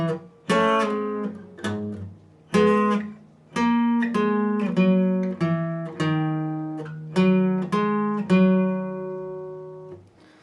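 Electric guitar plays a modified song intro slowly: a series of plucked chords and single notes, each left to ring and decay, loud and close with no voice.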